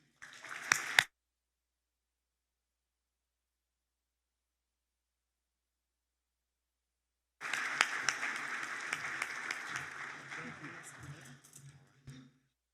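Audience applause welcoming Roanoke City Mayor Sherman Lea at the 2023 State of the City event, a short burst of clapping, then a silence, then a longer sustained round of applause of about five seconds that fades out.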